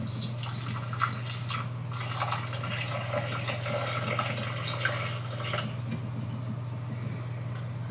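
Rainwater is poured over a sundew plant to submerge it, making a soft, steady trickle and splash with small drips throughout, faint and close, over a low steady hum.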